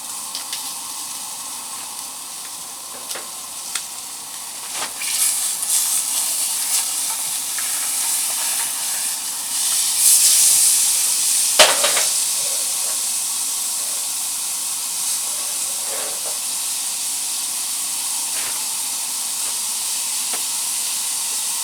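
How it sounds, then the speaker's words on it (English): Catfish fillets searing in a hot pan for blackened catfish, a loud continuous sizzle and hiss that swells and flares with occasional spattering pops, close and without voices. "you really want to get a good sear on the meat"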